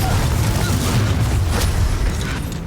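A Confringo fire spell detonates in Hogwarts Legacy on Nintendo Switch, a dense, booming blast with a rumbling low end that stays loud and sustained across the moment, with a brief crackling burst partway through.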